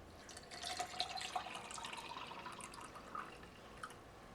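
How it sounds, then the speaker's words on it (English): Water poured onto purple drink powder from a UK 24-hour ration pack, a soft trickling, dripping pour with a few small splashes, close and quiet, no voices. "and we'll add some water."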